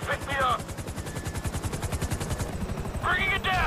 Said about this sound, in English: we're taking fire from the left side of the roof!